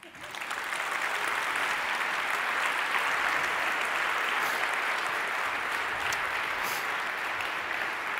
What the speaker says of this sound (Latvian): Ivars Austers, un aplaus!